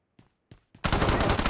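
Honey Badger rifle firing in PUBG Mobile: three short separate shots, then a loud, rapid automatic burst, close and continuous, with no voices.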